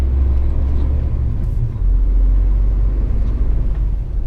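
Steady low engine rumble inside a new truck cab while driving on UK/European roads, a continuous droning hum with no talk.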